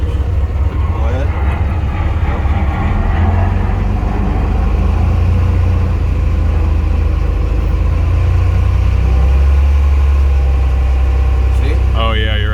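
A Douglas TBL280 towbarless pushback tractor drives with its engine as a strong, steady low rumble throughout, and voices talk over the machine.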